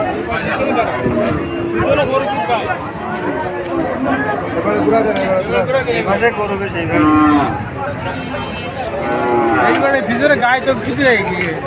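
Cows at a busy cattle market, where cows and calves are bought and sold, moo loudly and repeatedly, with the calls overlapping a dense crowd of people talking nearby.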